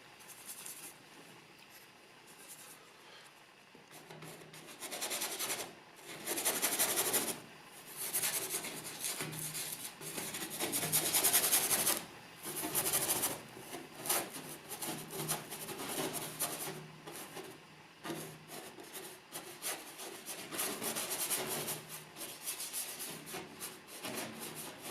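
A brush scrubs paint onto canvas in repeated close, dry rubbing strokes with irregular bursts and short pauses.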